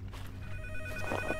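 A telephone rings in a video game, a steady electronic ring tone over low background hum, faint and brief.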